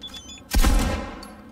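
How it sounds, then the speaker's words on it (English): A single heavy gunshot from a gun in Cyberpunk 2077, a loud close boom with a rumbling tail that fades over about a second, with no talk over it. "Wow, it's quite the gun, eh?"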